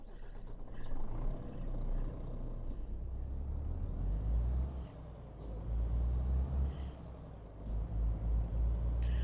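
A Renault Premium truck in Euro Truck Simulator 2 rumbles with a deep, steady diesel drone, punctuated by several sharp air-brake hisses, no voices over it.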